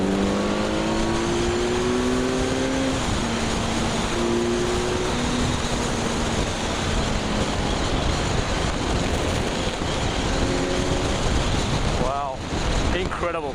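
Kawasaki Z900 four-cylinder motorcycle on a highway, engine note rising in long pitch sweeps as it accelerates and shifts, steady and close over constant wind rush, with brief voices in the background.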